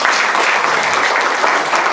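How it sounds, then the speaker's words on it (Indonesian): A dense, loud wash of audience applause fills a university faculty hall during an event at the Fakultas Adab dan Humaniora, with continuous overlapping clapping and no clear voices on top. "Tepuk tangan dong buat semuanya."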